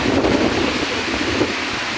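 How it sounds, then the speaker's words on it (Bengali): Heavy monsoon rain pours down in a storm, with a deep rumble like thunder and gusting wind underneath a loud, continuous wash of rainfall; no one speaks. "একবারে ঝড়ের বেগের মতন বৃষ্টি হচ্ছে।"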